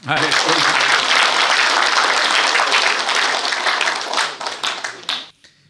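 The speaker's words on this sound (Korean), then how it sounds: "힘찬 박수로 환영해 주시기 바랍니다." Loud, sustained audience applause from a large crowd welcoming a speaker at a security lecture, close and dense, thinning into scattered claps before stopping.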